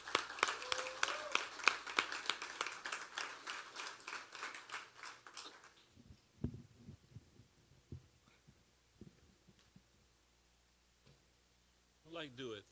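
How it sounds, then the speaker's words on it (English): An audience at a military poetry night claps for the next poet, a quick burst of close, fairly faint hand claps that stops abruptly, followed by quiet thumps and shuffling. "Please start clapping for"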